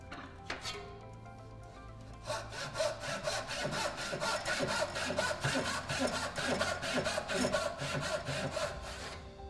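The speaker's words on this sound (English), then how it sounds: "Now he's cut from the face side, now he's going to turn around and do the same process from the opposite direction." A hand saw cuts through timber corner to corner along marking-gauge lines, a faint start giving way to steady, rhythmic rasping strokes at an even pace, close and moderately loud.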